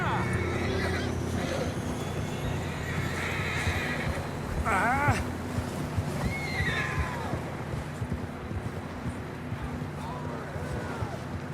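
Horses in the video game Red Dead Redemption 2 whinny and snort amid steady hoof clip-clop and outdoor rumble, several loud neighs near the middle, with voices talking throughout.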